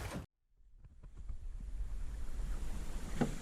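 A sailboat moves along the Scottish west coast near Loch Craignish with wind and water washing past. After a brief cut at the start, the broad rushing noise builds and stays steady, with no talking.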